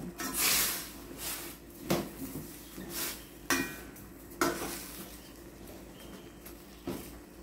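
Utensils stir eggplant, bitter gourd and string beans in a cooking pot for a Filipino inabraw (dinengdeng), giving scattered clinks and scrapes of metal on the pot over a low simmer, fairly quiet with no talking.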